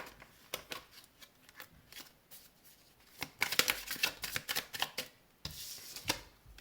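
Tarot cards shuffled close by in a quiet room, with soft scattered riffles and taps building into a denser, brisker burst of shuffling before a short pause and more card handling.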